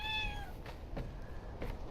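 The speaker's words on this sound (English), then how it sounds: "Good cat." A cat gives one clear, close meow that rises and then falls, followed by quiet room noise and a few soft clicks.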